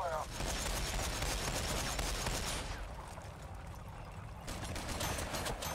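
Dense, rapid gunfire crackles continuously in a Warhammer 40K Battlesector battle between Orks and Blood Angels, loud and sustained with a slight dip midway, and a voice appears briefly at the start.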